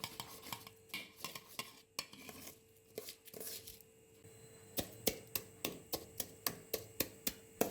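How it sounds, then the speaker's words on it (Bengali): A ladle stirs rice and milk payesh with date-palm jaggery in a pot. Scraping swirls come first, then a run of sharp, evenly spaced metallic knocks close by, with no talk. "মাঝে মাঝে ডাবু চামচ দিয়ে নেড়ে নিচ্ছি"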